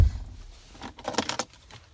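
Keys for a 2008 Toyota Sequoia Platinum 4x4 jingle in a short close cluster of metallic rattles after a low thump, with no talking.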